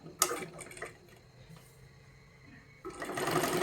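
A sewing machine runs slowly while stitching a katori blouse, a soft close whir with a few ticks early on, then a louder, steadier burst of stitching toward the end, with no talking.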